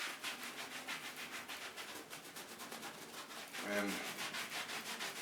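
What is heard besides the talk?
wiping leather motorcycle racing suit with conditioner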